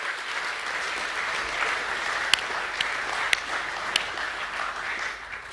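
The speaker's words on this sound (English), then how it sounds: "Let's give the artists a round of applause as well, please." Steady applause from a school assembly audience of students and staff at an academic awards ceremony, sustained and even throughout, with a few sharper claps standing out from the crowd.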